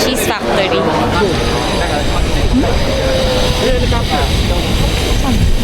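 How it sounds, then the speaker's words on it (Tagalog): A helicopter flies overhead in Akihabara, Tokyo, Japan, its loud steady engine roar filling the street throughout while people talk underneath. "Helicopter."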